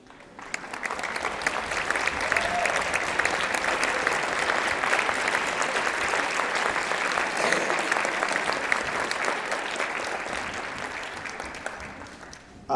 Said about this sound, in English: please stand so we can applaud for you